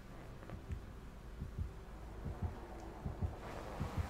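A low, throbbing heartbeat from the Dead by Daylight game pulses at an even rhythm, roughly one beat every 0.8 seconds, steady and moderately loud over a quiet humming background with no talk.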